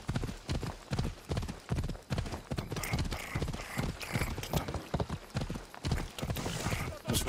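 Horse hooves gallop in Assassin's Creed Odyssey, a fast steady clip-clop rhythm of heavy thudding beats close by, continuing for about seven seconds with faint background game sounds.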